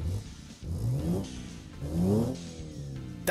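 Small truck engine in the Automation game with a very long stroke and small bore, revving up twice in rising whining sweeps over a steady idle, loud and alone.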